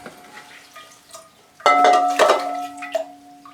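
A watering can pours water into a potted Sarracenia on a tray. Light clinks and knocks lead into a short, louder splashing gush, then trickling and drips.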